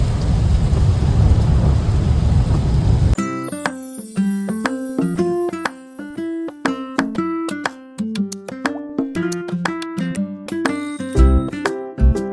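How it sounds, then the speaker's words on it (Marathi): Heavy rain pours down loud and steady in a roadside area on the way to Kolhapur, the first three seconds a dense hiss, after which music takes over. "पण खूप हेवी रेन आहे."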